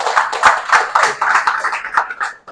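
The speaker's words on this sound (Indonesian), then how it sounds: "Sekali lagi kita tepuk tangan kepada" An audience applauds a presenter at a seminar, with loud, dense clapping from many hands for a couple of seconds before it trails off.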